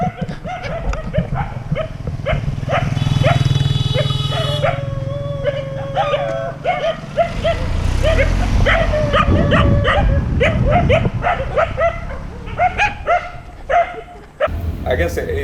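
Several dogs in Sri Lanka bark repeatedly at a runner, loud close barks and yips in irregular bursts over a rumbling outdoor background, with some whimpering mixed in.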